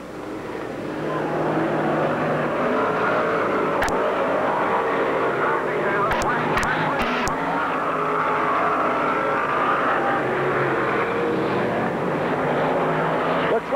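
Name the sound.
race cars racing on a track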